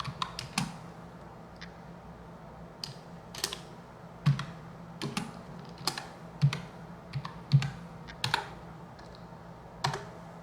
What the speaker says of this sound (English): I'm going to type this over here where we can put somebody.